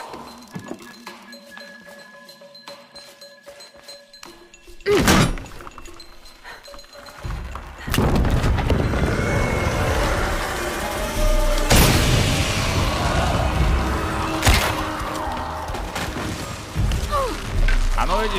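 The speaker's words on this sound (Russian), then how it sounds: "Нужно устроить взрыв." In the video game Shadow of the Tomb Raider, quiet rumbling gives way to a sharp booming blast, followed by loud crashing and roaring debris, with another heavy impact later.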